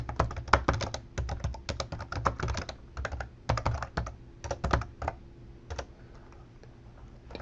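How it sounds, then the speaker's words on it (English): Typing a command on a computer keyboard while applying an ESXi 5.0 update: rapid close-up clicky keystrokes come in uneven bursts with brief pauses, tapering off toward the end, with no talking. "And here's that command. I'm just going to type it."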